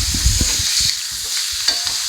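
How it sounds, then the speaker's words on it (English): Tilapia fillets fry in a hot pan for tacos, giving a steady crackling sizzle close up, with low clunks and scrapes of a utensil against the pan early on. "I'm going to let them cook for a few minutes on this side, and then we'll flip them over."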